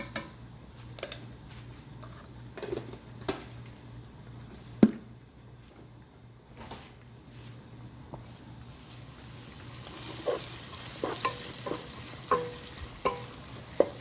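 Garlic paste fries with onion in a pan for a beef bolognese, a soft, steady sizzle close by with occasional light stirring clicks and taps that grow a little busier toward the end.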